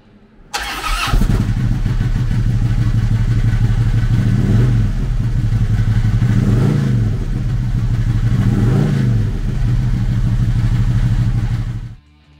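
A 2010 Harley-Davidson Tri Glide Ultra Classic trike with a 103 cubic inch V-twin starts up and settles into a loud, steady, close idle with a lumpy low rumble and a few light blips of the throttle, with no talk.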